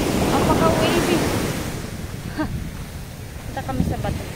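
Ocean surf rolls in at Capricórnio beach in Caraguatatuba, Brazil, a broad wash of breaking waves mixed with wind buffeting the microphone, loudest at first and then easing, with brief voices heard over it.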